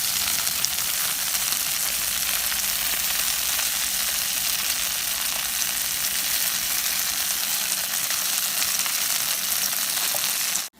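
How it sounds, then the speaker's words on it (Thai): Red beans stir-fried in a pan until dry for daifuku filling, a steady broadband frying hiss running unbroken and close throughout, with no voices, cutting off abruptly at the end. "อันนี้ก็ผัดจนแห้งนะคะ"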